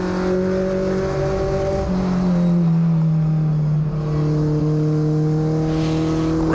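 Race cars circling Caraway Speedway during a 30-lap Allison Legacy Series feature, engines droning loud and steady with overlapping harmonic tones that shift in pitch as cars pass and accelerate.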